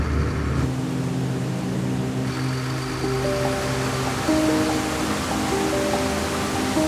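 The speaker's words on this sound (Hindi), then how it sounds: "ये है गिरते हुए पानी की आवाज क्योंकि हम क्रॉस कर रहे हैं यहाँ का फेमस वाटरफॉल" Falling water at a well-known white waterfall, a steady broadband rush heard while crossing it, with faint steady tonal hums underneath and no talking.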